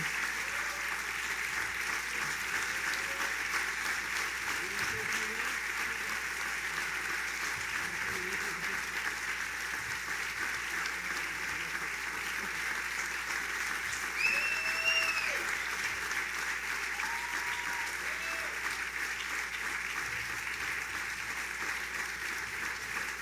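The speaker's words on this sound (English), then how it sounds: "Let's give the Gearys a big round of applause and thank them." An audience applauds steadily at a governor's summer tourism launch event for the Catskills, a dense, sustained clapping that carries on evenly for over twenty seconds, with a few faint voices and whistles poking through.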